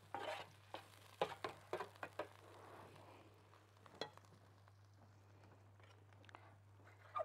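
Onions for shawarma are stirred in a frying pan, with a soft steady sizzle broken by several sharp scraping and clinking strokes of the spoon, close by and with no one talking.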